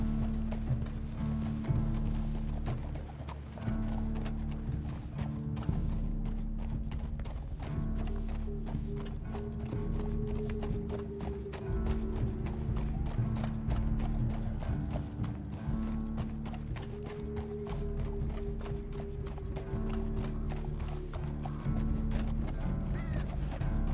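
Horse hooves clip-clopping at a steady, rhythmic gait in the Red Dead Redemption 2 video game, accompanied by a tonal musical score and scattered creaks and clinks of tack.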